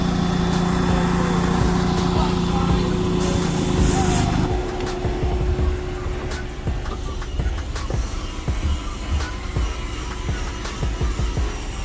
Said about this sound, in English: This vacuuming gonna take a little time.